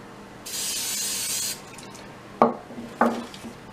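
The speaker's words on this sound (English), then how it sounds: "you can go ahead and use pan spray, but just kind of be careful and only spray the bottom" A short hissing spray of cooking spray onto the bottom of a baking pan lasts about a second, followed by two soft clunks of metal being set down nearby.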